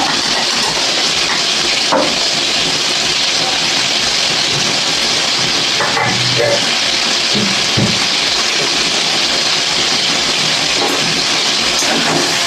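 Cumin and coriander paste frying in a pan for a Bengali home dish, a loud steady sizzling hiss that holds continuously throughout with occasional faint clinks of utensils.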